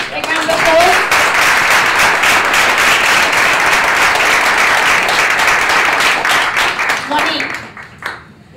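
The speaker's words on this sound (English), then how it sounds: "Big round of applause." Audience at a startup demo day applauds a pitch, loud, dense clapping sustained for about seven seconds before tapering off, with brief voices at the close.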